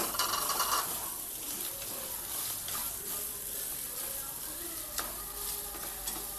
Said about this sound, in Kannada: ಈಗ ತೆಂಗಿನಕಾಯನ್ನು ತುರಿಯನ್ನು ಹಾಕ್ತೇನೆ ಫ್ರೈ ಮಾಡುವ